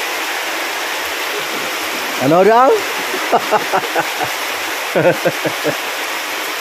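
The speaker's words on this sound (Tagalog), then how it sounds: "Lakas naman ng ulan" Heavy rain pours in a dense, continuous roar, close and loud, while people speak briefly over it.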